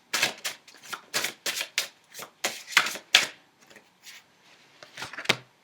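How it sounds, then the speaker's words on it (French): Tarot cards shuffled and laid down in a reading, giving a run of crisp riffling and slapping bursts in an irregular rhythm, close and fairly loud, then softer handling toward the end with no talk. "une dernière carte pour terminer ce tirage"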